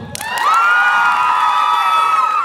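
A Comic-Con panel audience breaks into loud cheering and whooping, a bright sustained roar of many voices with high shouts that swells within half a second and holds for about two seconds before easing off.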